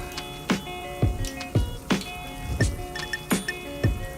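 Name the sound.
water flowing into a fish room pipe junction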